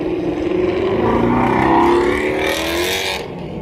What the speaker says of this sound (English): See all the Mustangs taking off?